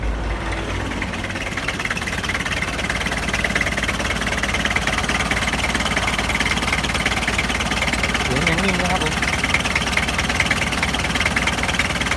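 A car engine runs at a rough, steady idle, its low rumble and faint ticking continuing evenly throughout.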